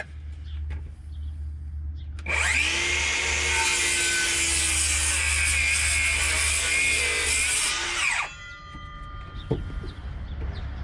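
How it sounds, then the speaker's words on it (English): One piece of wood is rubbed firmly against another in a backyard wood shed to mark a cut line, giving a loud, continuous scraping rasp that lasts about six seconds. Quieter handling noises come before and after it. "I'll just rub that against it so I know roughly where I could cut."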